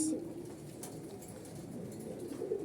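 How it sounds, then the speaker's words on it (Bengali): Caged pigeons coo softly and continuously in a short, close stretch, with low throaty calls overlapping against a faint background hum. "আমাদের প্রায় একশো জোড়া প্লাস কবুতর আছে একশো জোড়া প্লাস সব আমাদের কিন্তু খাঁচায়"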